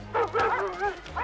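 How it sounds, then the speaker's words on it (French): A cartoon dog barks loudly three or four times in quick succession, close and clear over a quiet background. "Aboie très fort, peut-être qu'ils vont comprendre."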